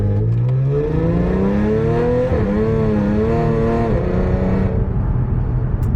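An Audi S4 with a repaired DSG transmission pulls hard along a road, its engine loud and close as rising harmonic tones climb through the gears with a brief dip at a shift, then fade.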